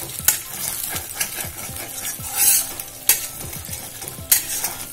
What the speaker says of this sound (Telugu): ఎగ్ బీట్ చేసి వేసేసుకున్నాను. చూస్తున్నారు కదా, మనకి ఆయిల్లో ఫ్రై అయిపోతుంది.